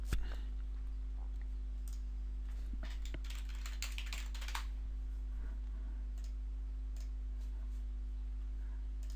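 Quick runs of keystrokes on a computer keyboard come in short bursts, loudest early and thinning out later, quiet and close against a steady electrical hum.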